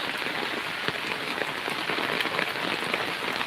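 Heavy rain pours steadily onto surfaces on a farm, a dense, loud hiss with scattered drop patters and no pauses.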